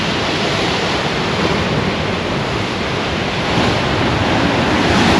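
Sea waves wash continuously against the Holderness coast at Aldborough, a loud, steady broadband roar of surf with wind buffeting the microphone and no voices.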